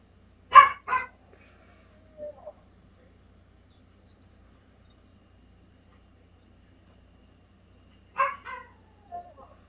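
A dog barks in two short bursts of a couple of quick barks each, several seconds apart, fairly close and clear over a quiet room background, with no talking during the barks.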